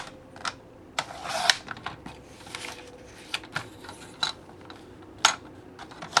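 Paper being cut to size for a sketch swap, with a string of sharp close snips and crisp rustles in an uneven rhythm and no talk.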